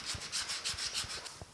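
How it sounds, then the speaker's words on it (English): A hand sanding block with 80 grit sandpaper scrubs the sheet metal cab of a 1950 Chevy five-window truck in quick, rhythmic, close back-and-forth strokes, with no voices. "switching over to the 80 grit, I'm able to get in and feather these down without worrying about gouging away paint"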